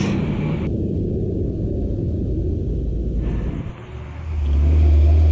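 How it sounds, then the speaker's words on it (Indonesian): An ANS intercity bus pulls in on a road near Solo, Indonesia, its engine a steady loud rumble that dips and then swells into a deep, close roar as it arrives. "Masuk lagi bis ANS."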